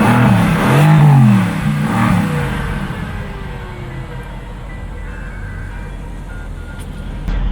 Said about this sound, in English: So now the exhaust will be in normal mode.